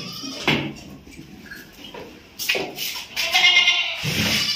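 A goat (bakra) of the Hyderabadi nasi breed from a breeder's pen in Shahin Nagar bleats loudly and close, a couple of drawn-out calls set among clatter and background noise.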